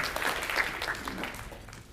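Brief applause from an audience at a Korean lecture hall, a short burst of clapping heard at moderate distance, fading within two seconds with no voices over it.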